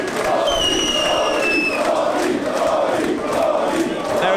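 Wrestling crowd in Newcastle chanting in loud, rhythmic waves of cheering and shouting, a dense arena roar with whistles cutting through.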